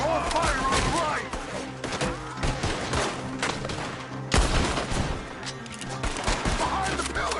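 Gunfire in Red Dead Redemption 2 during a shootout, loud overlapping volleys of shots and thuds, dense and continuous, with shouting voices over the battle.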